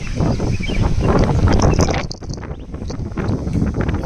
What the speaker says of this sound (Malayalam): നല്ല അടിപൊളി തണുത്ത കാറ്റ് ഇങ്ങനെ അടിച്ച് കയറാം